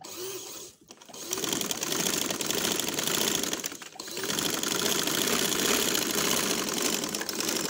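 A sewing machine runs in steady bursts stitching straight practice lines on cloth, a fast mechanical whirr that stops briefly twice before starting again; no speech over it.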